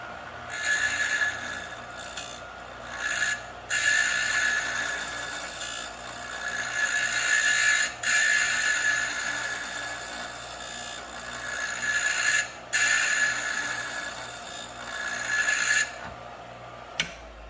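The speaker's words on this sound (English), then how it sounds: "I'm going to just touch it up real quick on the grinding wheel there to make sure it's true." Steady abrasive hiss and rasp of a grinding wheel being dressed true with a diamond tool in a garage, running continuously with a few brief dropouts, fairly close and alone without talk.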